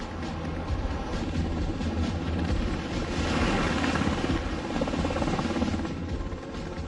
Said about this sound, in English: Helicopters also help out.